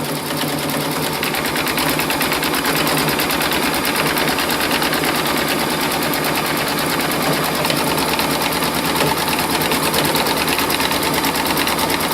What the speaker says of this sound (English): It always tacks the fabric twice.